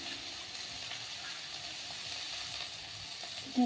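Washed lentils tipped into a hot pan, setting off a steady, close sizzling hiss of frying that holds even throughout, with a small sharp bump right at the end.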